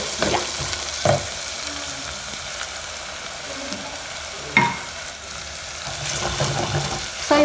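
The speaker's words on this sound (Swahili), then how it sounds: "So you keep on stirring because utaki sufuria yako ishike chini" Kenyan beef pilau sizzles and fries in a sufuria while being stirred, with a steady low sizzle broken by a few sharp scrapes and clinks of the spoon against the pot.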